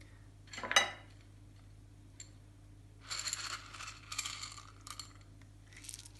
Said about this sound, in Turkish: Şöyle 4-5 kadar sarımsak koyuyorum.